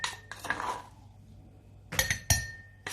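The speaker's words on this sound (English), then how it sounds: "So you just pack everything, all the onion, pack it and put it inside the jar." Chopped onion is packed into a jar, giving a few close clinks and knocks of glass and utensil. Brief taps come in two clusters separated by a quiet pause.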